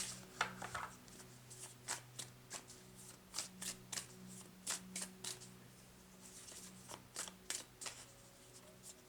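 A tarot deck is shuffled in a run of short, crisp riffling bursts that repeat at an even pace, close up against a faint low hum.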